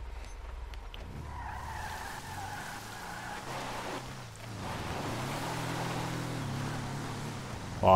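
A car in GTA V skids and its tires squeal over a steady engine roar, with pitched whines rising and falling as it slides, loud and close, ending in a sudden louder burst.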